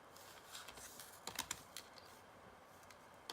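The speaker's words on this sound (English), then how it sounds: "So, just for fun, let's type in reflex sympathetic" Typing on a computer keyboard while entering a search, a short burst of quick clicking keystrokes, fairly close and quiet, with no talking.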